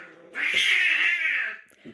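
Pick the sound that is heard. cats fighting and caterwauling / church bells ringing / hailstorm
cats fighting and caterwauling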